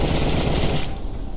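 Rapid automatic gunfire from a 7.62 NATO weapon in the Roblox game Apocalypse Rising 2, a dense continuous burst with heavy low-end rumble, loud and unbroken throughout.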